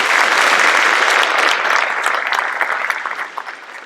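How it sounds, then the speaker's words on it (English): Audience applause at a district-wide school world language awards ceremony as a student comes up to receive an award, a loud, dense round of clapping that holds steady and then thins and fades toward the end. "Round of applause for Senor Home."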